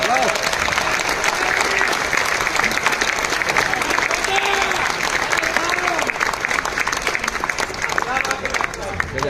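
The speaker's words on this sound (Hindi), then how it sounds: "आप लोग उन लोगों के लिए तालियां बजा सकते हैं" An audience at a talk on Kangen water gives a team sustained, loud applause with dense clapping throughout, a crowd murmur mixed beneath it.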